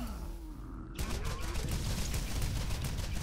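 A rapid-firing gun in the video game Borderlands opens up about a second in, after a quieter stretch, and keeps going as a dense stream of fast, loud shots to the end.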